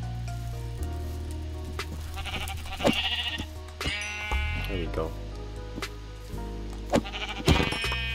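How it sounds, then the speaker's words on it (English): White sheep bleat in the Minecraft video game, a few short wavering calls standing out over a steady background hum while someone talks throughout. "there's plenty of white sheep."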